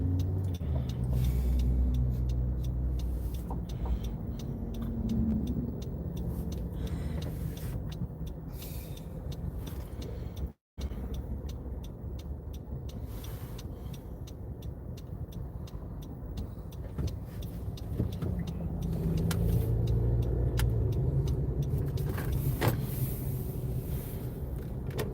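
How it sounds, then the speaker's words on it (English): Heavy road traffic moving through a green light, a steady close rumble of cars with buses and trucks passing and an air brake hiss, continuous and fairly loud. "Green light and a lot of traffic."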